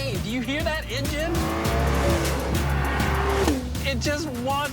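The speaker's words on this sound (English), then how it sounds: "Do you hear that engine?" A loud car engine revs and roars, its pitch rising and falling as it accelerates, with tire squeal and a voice speaking over it.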